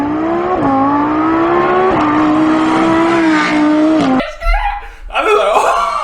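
A sports car engine revving at high pitch, loud and sustained, climbing in steps for about four seconds before breaking into a rough, scrambled burst of squeals and roars.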